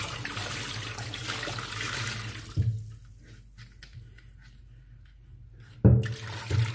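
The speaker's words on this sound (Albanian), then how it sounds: "Edhe i shpërlojna 4 herë me ujë të pastër." Plums and grapes for jam are rinsed in clean running water, a steady gush of tap water with soft splashing that thins out midway, then returns in sharper bursts.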